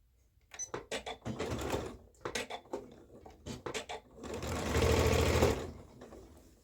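A sewing machine stitches a V-neck bodice, first in short start-stop bursts of rapid needle chatter, then in a longer steady run, close and fairly quiet.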